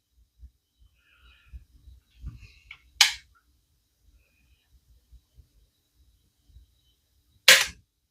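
Investarms Hawken muzzleloading rifle's set trigger releasing, two sharp metallic snaps several seconds apart, the second one louder and near, with faint handling clicks and low thumps between.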